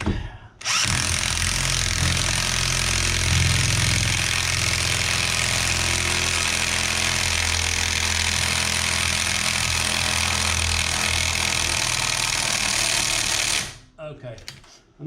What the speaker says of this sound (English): I got my snap-on speedy wrench. It's not the strongest, but at least it'll get it tightened up a bit.